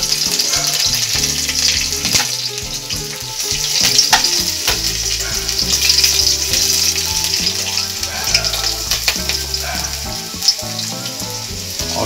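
Garlic and green chillies fry in hot oil in a home kitchen while chilli paneer is being made, giving a loud, constant sizzle with clinks and stirring noises.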